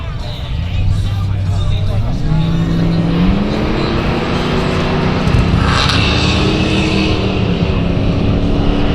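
Drag racing cars at a Sunshine Coast strip give a loud, continuous engine roar with rising pitch sweeps as they move off, under an announcer's commentary throughout.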